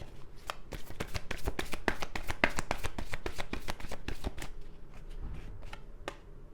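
Tarot cards being shuffled by hand, a dense run of crisp riffling snaps and slaps close up, continuing steadily before thinning out near the end.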